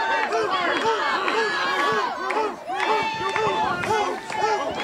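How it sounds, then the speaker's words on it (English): A crowd at an NWA Mountain State wrestling show in Beckley shouts and hollers, with many overlapping voices rising and falling in waves, loud and close, and a brief dip near the middle. "Listen to the crowd here."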